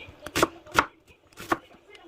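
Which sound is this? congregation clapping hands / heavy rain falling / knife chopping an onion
knife chopping an onion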